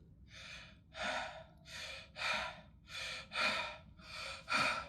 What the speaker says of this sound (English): This is my breathing.